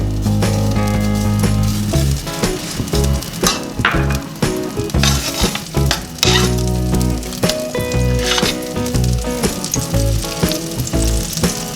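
Two tablespoons of butter melting in a hot pan, a loud close continuous sizzle and crackle with scattered sharp pops and a few clinks of utensils, no voices.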